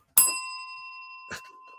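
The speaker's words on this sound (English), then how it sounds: "He's always got his bell." A small bell is struck once, giving a bright, clear ring that sustains and slowly decays, with a softer second tap about a second later, close by and alone.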